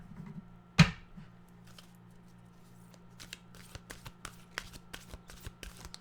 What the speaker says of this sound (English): So let's get our well-being cards by Esther.